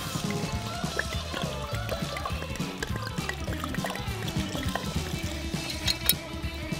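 Mineral water pours steadily into a cooking pot for a dish of smothered peas with prawns, a continuous close trickle under background music.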